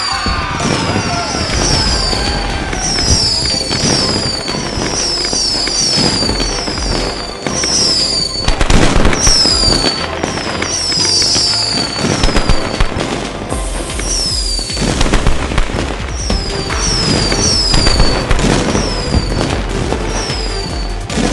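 Fireworks show in the video game Play Together for a Brown bear birthday celebration: dense, continuous bursts of crackling and whistling pops with booms, loud and busy throughout, with occasional heavier blasts.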